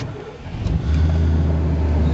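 A 1998 Chevrolet 2500 4x4 pickup truck cranks over cold and catches, its engine settling into a loud, steady low rumble close by after a short quieter lead-in.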